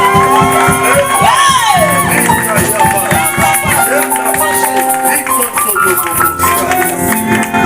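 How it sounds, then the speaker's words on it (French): An evangelical church congregation in Lyon cheers and acclaims Jesus, a loud, sustained wash of shouting voices and whoops that fills the whole stretch without letup. "Est-ce qu'on peut acclamer pour le Seigneur? Nous acclamons pour Jésus."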